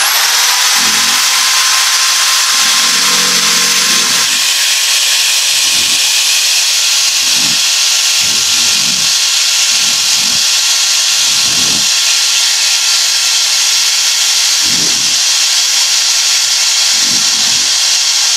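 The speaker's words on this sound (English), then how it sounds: "you just step on it, and you have a quick little source for power carving" A foot-pedal power carving tool cutting pine wood gives a constant loud high-pitched whir and hiss, broken by scattered low thumps and bursts as the bit bites into the wood.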